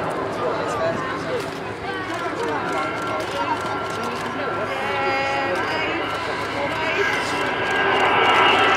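Four Rolls-Royce Bristol Olympus 202 engines of an Avro Vulcan bomber at an airshow at RAF Cosford, a loud, continuous jet roar that swells slightly toward the end, with a voice talking over it.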